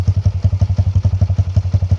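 Kawasaki KLX110 fitted with a 143cc big bore kit and an aftermarket BBR exhaust, idling close by with a steady, loud, rapid thumping pulse and no talking.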